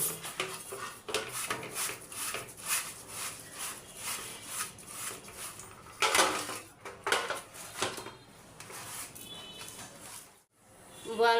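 Boal fish being scrubbed and rubbed clean by hand with a scrubber, with steady close rubbing and scraping strokes and occasional clinks of pots and utensils in a home kitchen.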